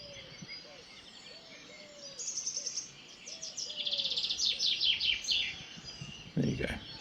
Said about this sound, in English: See, a chaffinch is different from the robin, the song thrush and the blackbird, and the fact that it sings a repetitive phrase all day, every day.